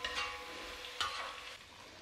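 Pork slices and chili peppers are stir-fried in a wok with oyster sauce and chicken bouillon, producing a soft, steady sizzle with a few brisk spatula scrapes and tossing bursts, heard fairly quietly.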